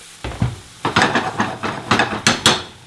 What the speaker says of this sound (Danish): på en nogenlunde varm pande, så begynder vi altså småt at stege det af her